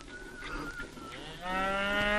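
Cattle lowing on a Cotswolds farm in Gloucestershire, with several long, tonal moos overlapping, the last one swelling louder and fuller, carried over a steady low rumble of farmyard background.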